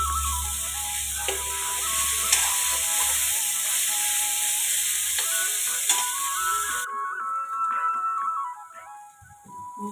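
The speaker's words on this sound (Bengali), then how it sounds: "পেঁয়াজ রসুন কিছুটা দিয়ে দিলাম দিয়ে এবার একসঙ্গে ভেজে নিচ্ছি" Onion, garlic and ginger fry in hot oil beside raw banana pieces for a curry, giving a steady close sizzle that runs loud and even, then drops to a quieter crackle near the end.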